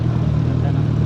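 A Suzuki Hayabusa 1340cc motorcycle idles steadily and close by in traffic, giving a loud, even, low rumble with no revving.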